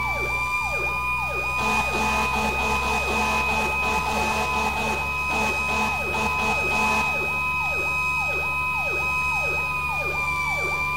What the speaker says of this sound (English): Let go of the siren!